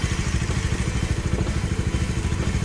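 Two motorcycles set up for a night ride from Mumbai toward Somnath idle and rumble nearby, a steady throbbing engine pulse with light mechanical clatter and no speech.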